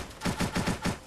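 Gunshots in the Watch Dogs video game: five quick, evenly spaced shots in a rapid burst, loud and close, with no voices.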